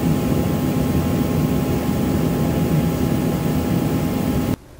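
Airliner engines at Philadelphia airport before takeoff, a broad, steady roar heard from inside the cabin that holds constant for several seconds and then cuts off abruptly.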